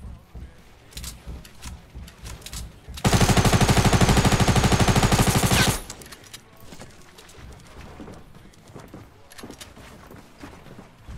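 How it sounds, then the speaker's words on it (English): Rapid automatic gunfire in Fortnite, one loud close burst of about three seconds with quieter game sounds before and after, no talk. "Stop shooting at me."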